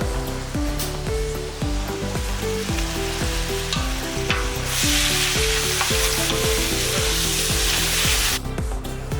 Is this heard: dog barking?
no